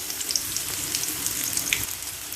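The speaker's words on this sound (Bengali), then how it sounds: "একটু ভাজা ভাজা হয়ে গেলে, এভাবে ভাজা ভাজা যখন হয়ে আসবে, দিয়ে দিলাম এর মধ্যে রসুন বাটা" Garlic paste sizzles in hot oil with bay leaves, a steady, soft crackling hiss of frying for a mango pickle, heard alone without talk.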